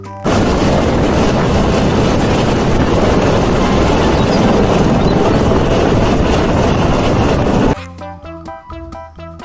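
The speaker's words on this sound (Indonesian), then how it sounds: "Widih, ada helikopter." A helicopter, heard as a loud, steady, broadband rotor and engine roar that fills most of the clip and then cuts off abruptly, followed by a short musical tail.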